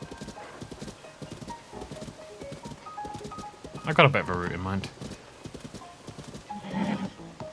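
A large horse gallops with steady clip-clopping hooves and lets out a loud, clear whinny in Zelda: Tears of the Kingdom while climbing a mountain, with someone talking over the hoofbeats.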